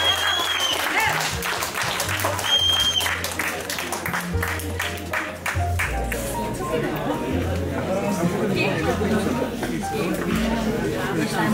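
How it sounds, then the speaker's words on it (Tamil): Audience applause breaks out at a biryani cooking competition in the UK, a dense burst of clapping with crowd chatter mixed in, fading into ongoing hall babble and voices. "ஒரு சின்ன கைத்தட்டல் கொடுக்கலாமா?"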